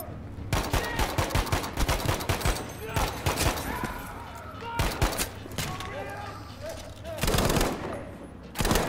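Light machine gun fire rattles in bursts in the Battlefield 5 campaign, loud and close, with dense overlapping shots, pauses between volleys, and a player talking over the gunfire.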